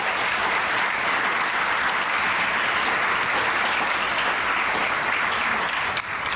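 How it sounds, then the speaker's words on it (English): A crowd claps and cheers in a steady, loud round of applause that carries on throughout, then stops abruptly near the end. "y'all give them a round of applause"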